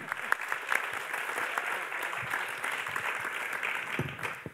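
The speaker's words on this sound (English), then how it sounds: "There is a reason why Nadav applauded." A crowd claps steadily for several seconds, a dense patter of hands in a moderately sized room with no voices over it.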